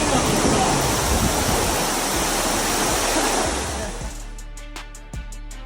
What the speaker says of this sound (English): A sharp turn at sea turns the cruise ship's pool into a giant waterfall.